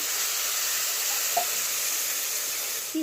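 Steady loud hiss and sizzle of water poured onto spices in a hot pan for a mutton and bottle gourd curry, continuing evenly for the whole stretch with no talking.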